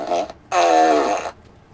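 A fart machine lets out a novelty sound effect as a short blast followed by a longer, louder buzzing raspberry, close and alone with no talk.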